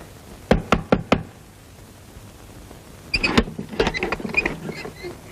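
Knocking on a house's back door at night: four quick, firm raps, a pause, then a rougher burst of rattling knocks and door noise, close and fairly loud with no voices.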